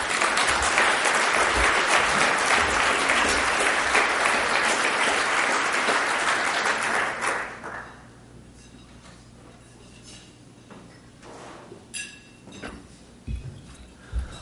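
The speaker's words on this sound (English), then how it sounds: "Let's have one final round of applause for superb luncheon presentations." An audience at a hotel luncheon gives a full, loud round of applause for about seven seconds, then it falls away to a quiet room with scattered clinks of glasses and cutlery.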